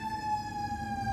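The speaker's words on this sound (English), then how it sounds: "as you hear the ambulance, right?" An ambulance siren sounds outside, a steady high wail with bright harmonics holding at an even, fairly loud level throughout the short stretch, with no voices over it.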